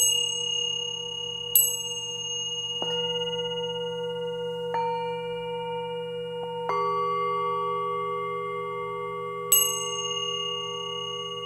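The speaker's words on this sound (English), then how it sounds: "And then you might even want to bring in a tingshu bell, like this." A tingsha bell rings several times during a Tibetan singing bowl sound bath, each bright metallic strike sustaining a long shimmering tone over a steady low drone, with a couple of sharper high clinks between the rings.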